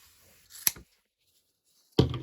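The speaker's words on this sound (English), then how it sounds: "we're going to cut another piece that is 28 inches long" Scissors snip through a denim binding strip cut from old jeans, two separate close cuts, a short crisp one and then a heavier, longer chomp after a quiet pause.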